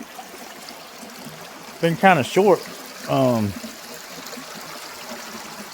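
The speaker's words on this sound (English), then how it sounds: "Yeah, y'all, how y'all like the creek?" A creek flows in a steady low wash of water, with someone talking briefly over it in the middle.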